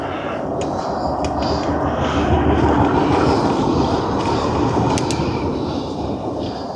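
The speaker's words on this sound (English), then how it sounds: "Oh, there's a tram behind us." A tram passes behind a cyclist riding outdoors, a steady, fairly loud rolling rumble that holds throughout the stretch without speech.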